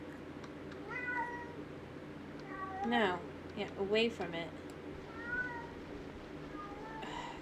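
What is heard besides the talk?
cat meowing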